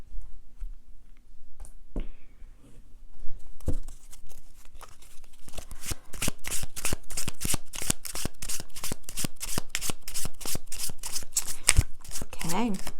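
Oracle cards are shuffled close up: a few scattered taps and rustles, then a long run of rapid, crisp riffling snaps that continues to the end, with a voice briefly heard near the close.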